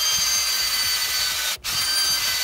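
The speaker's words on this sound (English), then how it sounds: "And then you drill 2 to 3 centimeters." A power drill whirs steadily and close up, boring 2 to 3 centimeters into a dry birch tree for tapping, its motor pausing briefly before running on.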